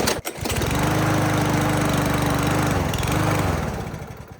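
A salvaged walk-behind lawn mower engine with its air filter refitted, cranked and catching into a loud, steady running drone close by for several seconds before slowing.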